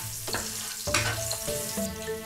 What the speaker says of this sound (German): Lauchzwiebelringe anbraten.